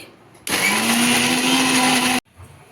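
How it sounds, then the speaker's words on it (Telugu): A mixer grinder grinds gongura chutney with tamarind, cumin and fenugreek in one loud, steady burst of under two seconds, starting and stopping abruptly with a whining motor tone. "అంతా వేసేసి మళ్ళీ మిక్సీ పట్టుకోవాలి"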